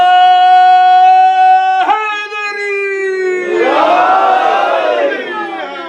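An audience at an Islamic majlis in Calgary responds to a slogan (naara), a loud sustained tonal call followed by a swelling collective shout of many voices.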